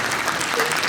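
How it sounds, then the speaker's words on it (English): Loud, continuous audience applause after an interview panel, a dense wash of clapping lasting under a second. "Give it a huge round of applause for Femi Taylor, Paul Warren, and Keith the"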